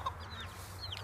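Soft clucking from a hen and faint chirps from her chicks, a few brief calls over a steady low hum in the background.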